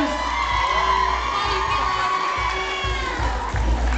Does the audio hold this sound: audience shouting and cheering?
yes